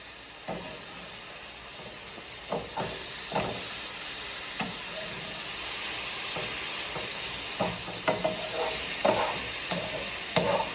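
Fried rice with soy sauce stir-fried in a crowded pan: a steady close sizzle and hiss, with scattered scraping stirs and clacks, no voices.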